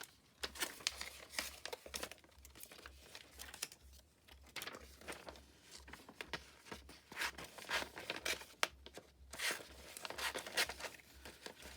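Paper snipped and crinkled while stamps are rough-cut from a stamp magazine, giving irregular quiet rustles, crisp cuts and crumpling bursts close by with no speech.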